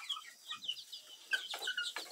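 Roosters cluck in short, high bursts, several birds calling nearby in an irregular chatter against a quiet background.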